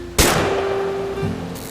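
A single loud gunshot from the video game What Remains of Edith Finch, with a sharp blast followed by a long ringing tail that slowly fades.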